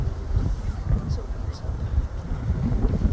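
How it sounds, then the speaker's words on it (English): Gusty wind buffets a phone microphone outdoors near an airport runway, a steady loud low rumble with rustling bursts throughout. "It's so windy. I can't keep my phone straight."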